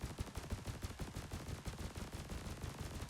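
Pulse lasers on a spaceship in the game Elite Dangerous fire in a fast, steady stream of sharp punchy bursts, rapid and evenly spaced, loud and close with no talk.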